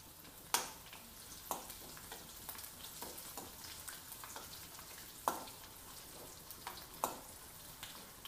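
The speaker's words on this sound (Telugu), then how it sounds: "తెల్లగడ్డ వేసి కొంచెం లైట్గా వేగనివ్వండి." Garlic frying lightly in oil for a Telugu raw mango pickle tempering, a soft steady sizzle with a few sharper crackles and pops spread through, quiet and close with no talking.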